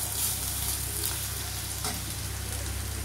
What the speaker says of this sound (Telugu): ఆనియన్స్ ఫ్రై అయిపోయిన తర్వాత ఒక స్పూన్ అల్లం వెల్లుల్లి పేస్ట్ వేసుకొని ఫ్రై చేసుకోండి.